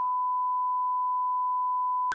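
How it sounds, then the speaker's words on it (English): A single sustained censor beep, a pure steady tone lasting about two seconds, loud and alone, cut off abruptly with a brief thump at the end. "Beep."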